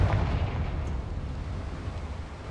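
A deep, booming blast from the Confringo fire spell in Hogwarts Legacy, a single heavy burst that rumbles and decays over a couple of seconds with no voices.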